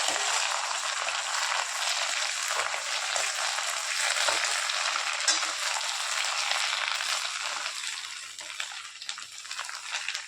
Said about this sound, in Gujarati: મેથીની ભાજી નાખ્યા પછી એને હલાવી દઈશું।